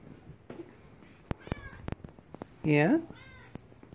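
A cat with a notched ear meows in a clear, rising call near the end, among soft clicks and handling noises, while a person talks gently to it before and after.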